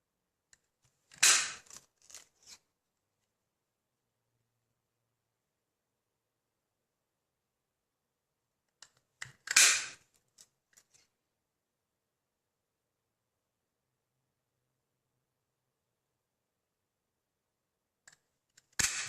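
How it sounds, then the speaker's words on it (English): Paper punch cutting shapes from stamped cardstock, heard as two sharp clusters of crisp clicks and snaps separated by long silences, with a third brief burst at the very end. "we're going to cut those out with the punch"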